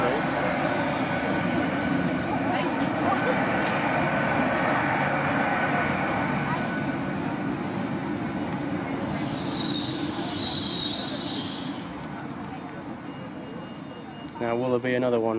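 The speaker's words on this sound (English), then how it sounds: "new Azuma train just come through" A new Azuma train rumbles past close by on the tracks in Lincoln, a loud steady roar with squealing wheels, fading near the end as a voice speaks.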